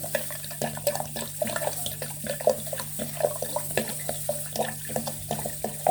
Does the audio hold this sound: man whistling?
no